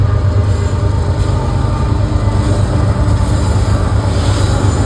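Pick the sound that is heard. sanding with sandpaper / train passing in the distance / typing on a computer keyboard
train passing in the distance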